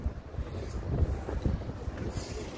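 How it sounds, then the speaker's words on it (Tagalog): Low, gusty wind buffeting the microphone near Busan Tower, Busan, in uneven rumbling surges, steady throughout with no voices. "Sarap ng hangin oh."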